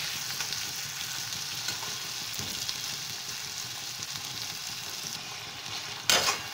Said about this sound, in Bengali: টমেটোটা এবার একটু মজতে দিতে হবে